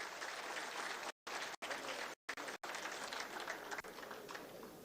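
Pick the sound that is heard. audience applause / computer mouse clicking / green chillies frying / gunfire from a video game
audience applause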